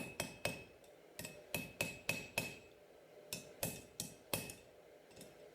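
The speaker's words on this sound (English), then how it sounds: "Now I'm moving my finishing hammer just to get those hammer marks out." A small finishing hammer striking hot knife steel on an anvil, a fast series of sharp ringing blows in quick clusters, close and clear with no talking.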